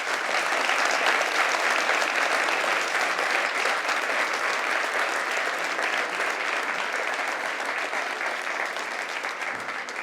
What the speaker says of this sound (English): And we can just give them one more round of applause for having opened them.